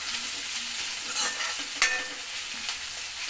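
Crushed garlic sizzles in hot oil in a pan for tamarind kuzhambu, a close, bright frying hiss with scraping stirs and one sharp clatter partway through.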